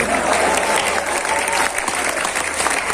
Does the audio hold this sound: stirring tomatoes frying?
no